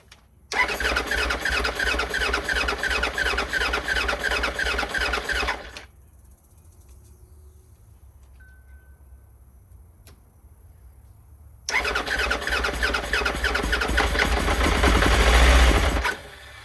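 A Triumph's engine is cranked with its starter in two long rapid whirring bursts separated by a quiet pause. The second attempt rises louder toward the end, with no talk.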